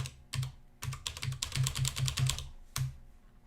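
Close, crisp keystrokes on a computer keyboard while editing assembly code, a few separate taps followed by a quick run of rapid presses and a final single key, with no speech.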